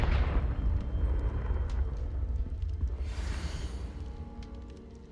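A Confringo blasting spell from Hogwarts Legacy explodes in a loud, rumbling burst that slowly decays, with a hissing flare partway through.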